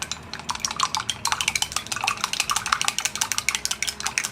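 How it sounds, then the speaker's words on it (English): Eggs are beaten briskly in a bowl with a utensil, making a rapid, even series of close clicking, clattering strokes that continue steadily throughout with a slight wet edge. Nobody talks. "And beat the eggs."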